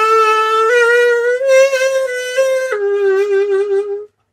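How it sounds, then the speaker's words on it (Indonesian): A little saxophone sounds a steady, bright held tone blown without tonguing, stepping up slightly midway and then dropping back before stopping cleanly, loud and close with no talking. "Jadi akan berbeda suaranya seperti ini kalau tanpa lidah."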